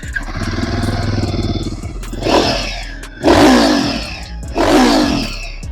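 A 2026 Royal Enfield Guerrilla 450 motorcycle idles with a steady rumble, then its exhaust is revved hard three times in quick, roaring bursts.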